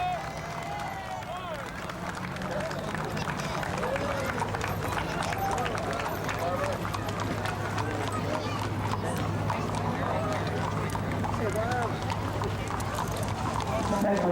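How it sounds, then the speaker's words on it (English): Horses from a riding stable passing in a community parade, hooves clip-clopping in a steady rhythm over pavement amid crowd noise and an announcer talking. "Beautiful horses."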